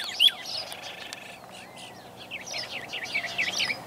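Outdoor birds chirp in short, bright bursts, with a cluster of quick tweets near the start and a busier run of chirps toward the end over faint background hum.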